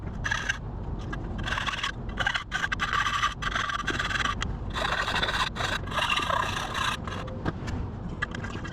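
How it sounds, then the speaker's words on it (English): A metal file rasps around the edge of a freshly drilled circular hole during a Honda Civic D16Y7 turbo build, with repeated scraping strokes in uneven bursts over a steady background hum. "I'm just gonna file it down a bit now"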